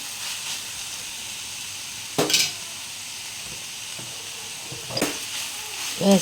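Sliced onions frying and being stirred in a pan for egg curry, a steady close sizzle with occasional scraping bursts of the spoon against the pan, no voices.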